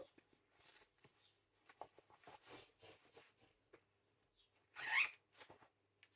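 Zipper on a cross-stitch project bag pulled in a few short quiet bursts, ending in one louder, longer zip near the end, with soft rustling handling sounds between.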